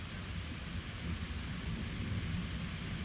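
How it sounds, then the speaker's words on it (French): Steady roar of a thunderstorm over Bordeaux in August, with rain and low rumbling thunder forming a dense, continuous wash of sound that stays fairly even throughout. "il y a bel et bien un orage là qui s'est formé à l'arrière du reste"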